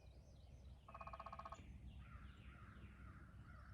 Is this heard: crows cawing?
yes